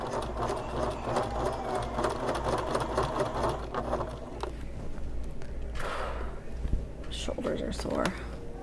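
Sewing machine running a seam on a convertible bag, a steady mid-level whirr of rapid stitching that fades and turns uneven in the second half, with rustling handling as the bag is manipulated, and a voice speaking over it.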